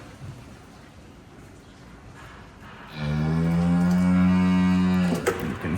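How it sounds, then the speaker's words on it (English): A cow restrained in a cattle crush lets out a single long, loud, deep moo that begins about halfway through, close by, following a stretch of low rumbling background noise. "That is the cow in the crush. You could hear mooing there."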